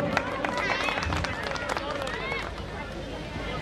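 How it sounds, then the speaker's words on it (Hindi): Crowd applause at a Holi Milan awards gathering of the Shri Ram Kala Mandal, scattered clapping mixed with murmuring voices and hubbub, moderately faint and continuous, easing slightly toward the end. "बहुत जोरदार तालियां।"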